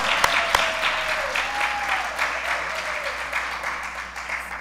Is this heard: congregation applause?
yes